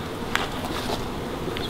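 A beehive entrance full of honey bees gives off a steady buzzing hum, close and continuous, with a few brief sharper flickers as bees pass near.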